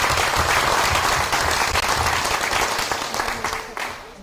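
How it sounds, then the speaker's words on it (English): Audience applauding a group of staff at a company meeting, full clapping that thins and fades toward the end, with a few murmured voices in the room. "I'd like to give them a round of applause."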